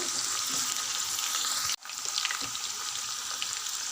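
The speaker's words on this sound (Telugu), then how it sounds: "మంట మీడియం ఫ్లేమ్లో పెట్టాలి ఇలా వేపాలండి" Broad beans fry in a pan over a medium flame for a pickle, giving a steady, close hiss that cuts out for a moment midway, then resumes at a slightly lower level.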